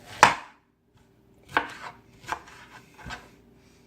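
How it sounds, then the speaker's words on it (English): A knife cutting up two peaches, heard as four or five separate close chops on a cutting board, spaced by pauses of quiet. "I'm going to cut up 2 peaches"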